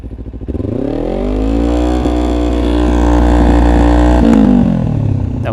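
A 2009 Kawasaki Ninja 250R engine rises from idle and is held high near 7000 rpm, a loud close buzzing whine that holds steady before dropping slightly at the end.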